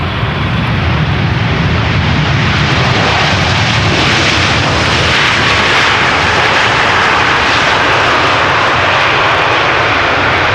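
A large aircraft passes south of the observer at Amsterdam Schiphol Airport, its loud, steady jet roar filling the whole stretch without a break and with no voices.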